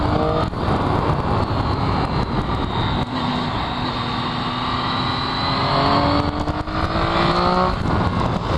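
A Triumph Daytona 675 sport motorcycle accelerates on twisting park roads, a loud, steady engine drone close by with rising harmonic tones as the throttle opens, over constant wind rush.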